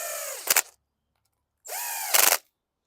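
An impact wrench drives bolts on a 2018 Bolens 500E lawn mower in two separate whirring bursts, each ending in a quick rattling hammer, with silence between them.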